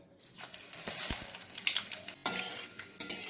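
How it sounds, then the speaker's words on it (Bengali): Dried red chillies, bay leaves and nigella seeds frying in hot oil in a kadai, a bursty crackle with sharp clinks of a utensil against the pan, close and fairly loud. "এবার এর মধ্যে দিয়ে দেবো দুটো শুকনো লঙ্কা, তেজপাতা দুটো আর কালো জিরে"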